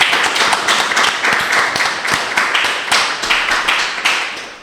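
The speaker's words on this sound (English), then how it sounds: "I want to have the students give you all a big round of applause and thank you for participating" Students clap for the artists at an art talk, a close, loud burst of applause with individual hand claps clearly audible, continuing throughout.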